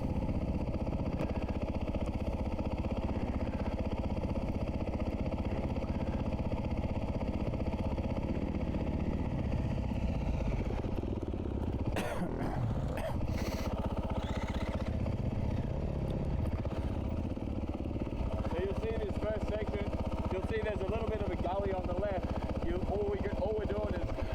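A dirt bike engine drones steadily while riding through a gully, with a thick, continuous mid-pitched motor sound that runs throughout. Brief clattering bursts come near the middle, and a voice talks over the engine toward the end.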